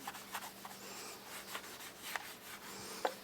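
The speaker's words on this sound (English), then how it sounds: "Just wipe it down with the rubbing alcohol." Soft intermittent rubbing as a cloth soaked in rubbing alcohol wipes down the body of a Singer Steamcraft clothes iron, quiet close-up strokes with a few sharper scuffs and no talking.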